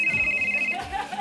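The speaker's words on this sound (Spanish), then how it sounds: "Teléfono. No estaría mal igual. ¿Quién llamó ahí?" A telephone rings with a steady electronic tone for under a second, then stops as people begin talking over the background.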